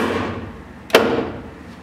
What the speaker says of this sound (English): here's the remote. You can probably hear it. This is the driver's side door.